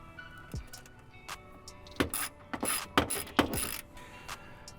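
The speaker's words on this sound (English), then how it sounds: "Putting our washer back on and our nut back on." A ratchet tightens a washer and nut during an accessory switch panel install on a Toyota Tacoma, giving a few short, close clicking and ratcheting bursts with quiet pauses between them.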